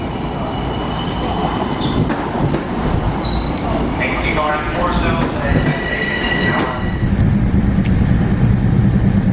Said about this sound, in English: These trains sound very similar to Hitachi trains in the UK.